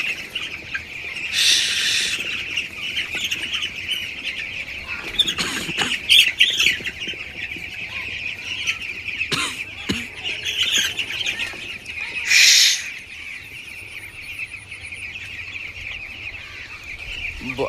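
A flock of broiler chickens on a farm keeps up a continuous chorus of cheeping and clucking, with a few louder squawks and brief wing flaps rising above the steady din.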